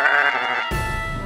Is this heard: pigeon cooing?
no